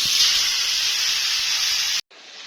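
Tilli, an organ meat marinated in ginger-garlic paste, frying in hot cooking oil, giving a loud steady hiss for two seconds that cuts off briefly and then resumes.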